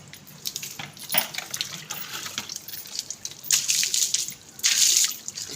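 Water runs from a tap and drips into a basin or onto a hard surface at home, in a steady soft trickle with louder splashing bursts toward the end and no voices.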